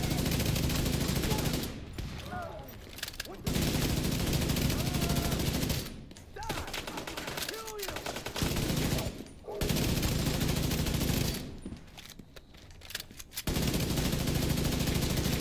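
The Division 2 Conflict PvP match: repeated loud bursts of automatic gunfire separated by short pauses, with a voice briefly heard between volleys.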